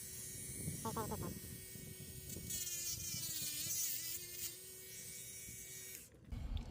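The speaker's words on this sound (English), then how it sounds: "It's just a little Dremel." A small Dremel rotary tool whirs at high speed near a 1983 Chevy wheel, its thin buzzing whine shifting in pitch as it works, with brief speech near the start.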